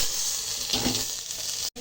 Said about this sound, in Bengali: মশলাটা লাল লাল করে ভাজা হয়ে গেছে